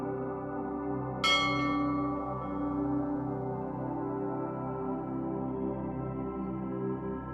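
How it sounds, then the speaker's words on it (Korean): One bell is struck once, giving a bright, clear ring that decays slowly over several seconds above a soft, sustained low drone, calm and unhurried. "종소리가 들리면"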